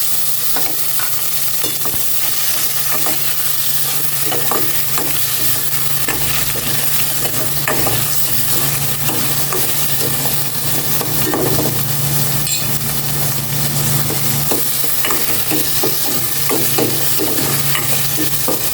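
Onion, tomato and chili fry in a pan, sizzling steadily and close up while a utensil stirs and scrapes against the pan at irregular intervals, with no voices.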